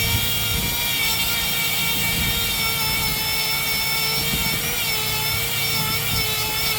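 A power sander strips yellow paint from a boom swing cylinder on a Caterpillar 416F backhoe, giving a steady high whine with layered tones and gritty rubbing, close and constant with no talk.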